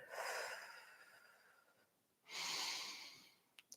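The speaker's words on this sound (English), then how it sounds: "Lovely deep breaths." Two long, soft, airy breaths taken slowly and deeply during a yoga class, close and quiet, separated by a brief hush.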